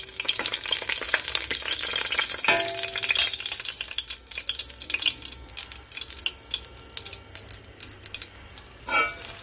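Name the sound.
dried red chilies frying in oil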